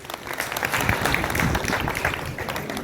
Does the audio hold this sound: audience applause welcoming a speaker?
yes